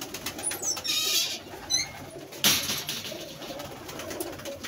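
Pigeons in a rooftop loft, with soft cooing and bursts of wing flapping, including a louder flutter midway, over steady outdoor background noise.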